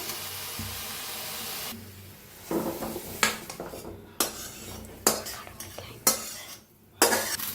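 Bottle gourd being roasted in a pan, with a steady soft sizzle under repeated scraping and clinking strokes of a spoon stirring against the pan, fairly close, with no talk.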